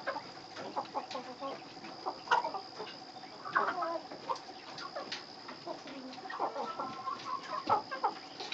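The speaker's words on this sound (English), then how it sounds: "These are silky roosters for you that are new to our channel." Silkie roosters clucking and calling in a farmyard, a busy run of short, close clucks and chatter repeating over steady background noise, with no talk.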